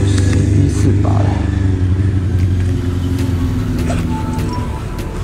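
An old carburetted Yunbao motorcycle engine runs close by with a loud, rough throbbing idle that lifts in a couple of short revs before settling back and easing slightly toward the end.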